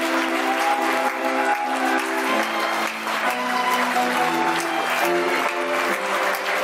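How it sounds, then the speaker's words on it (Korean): Wedding guests clap steadily for the bride and groom as they walk the aisle, the applause running under loud recessional music with sustained melodic tones. "신랑 신부 행진 내빈 여러분 큰 박수 부탁드리겠습니다."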